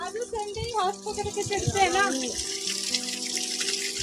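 Water runs and splashes steadily down a small mountain waterfall on a trail, a close rushing wash heard under overlapping voices.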